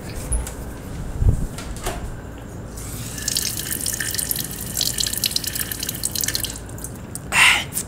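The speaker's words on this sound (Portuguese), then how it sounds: "Vou tomar água na pia aqui do banheiro." Water runs from a bathroom sink tap in a steady, close hiss for a few seconds, with scattered drips and small knocks before and after it.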